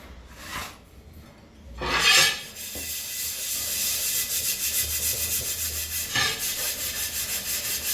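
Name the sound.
scrubbing a greasy tawa pan with steel wool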